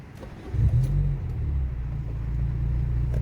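A car's engine rumbles low and close as it is maneuvered out of a parking spot during a driving lesson, with one brief rev near the start before settling into a steady idle.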